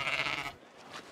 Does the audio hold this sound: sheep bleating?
yes